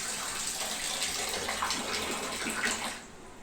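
Water gushing steadily from a loosened household tap under repair, a full splashing flow into a basin that carries on evenly and then drops off sharply near the end, with no talking.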